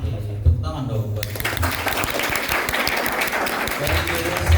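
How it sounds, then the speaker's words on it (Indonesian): An audience at a school mini cinema opening bursts into sustained clapping right after a short spoken line. The applause is dense and close and carries steadily to the end. "Oke, tepuk tangan dong buat."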